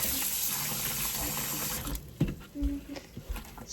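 Water runs from a tap into a sink being filled to soak wool hats, a steady hiss that cuts off partway through, followed by a few soft splashes and handling noises.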